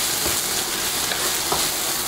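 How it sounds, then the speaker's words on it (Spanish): Onion and salt cod sautéing in a pan for a salt cod salad, a dense steady sizzle with a few faint stirring knocks, close and without talk. "vamos a saltear un poquito"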